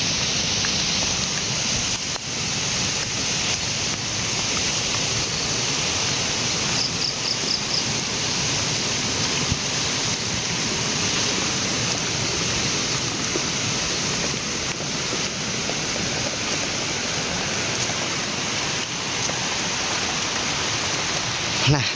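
Steady rain falls over rice paddies beside a village hut, a dense continuous hiss that fills the whole stretch at an even, fairly loud level with no break.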